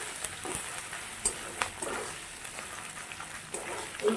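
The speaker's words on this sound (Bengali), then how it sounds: "আদা বাটাটা দিয়ে ভালো করে ভাজতে হবে।" Ginger paste frying in a pan, following garlic fried until reddish; a steady, soft sizzle with crackles and a few sharper pops, nearby and fairly quiet, with no talking.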